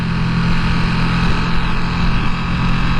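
A Ducati Panigale V2 motorcycle engine with standard exhaust cans drones steadily and loudly, a constant rumbling hum that holds throughout with no talking.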